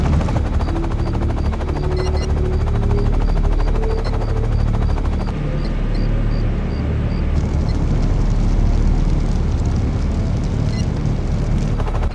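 Rotors of the V-44 aircraft in Act of War churn in a loud, steady thrumming wash that holds the whole way through, with a faint rhythmic beeping and other game ambience around it.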